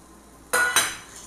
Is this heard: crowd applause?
no